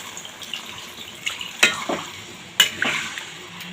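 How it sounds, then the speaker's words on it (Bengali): Jackfruit and potato curry with poppy seed frying in a pan, with a couple of sharp splashy hisses as water hits the hot oil over a soft steady sizzle and stirring. "দেখো জল দিয়ে দিচ্ছি"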